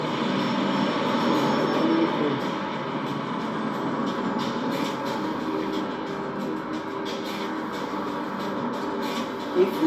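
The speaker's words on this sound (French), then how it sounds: "Là, c'est une attaque hélico." Helicopter attack in the video game Just Cause 3: a steady, loud engine and rotor drone fills the whole stretch alongside game noise, with a few louder bursts near the end.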